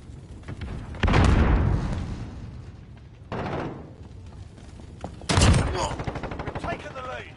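A frag grenade explodes amid gunfire in GTA 5: three heavy, booming blasts, each followed by a crackling tail, with a steady rattle of shots between them.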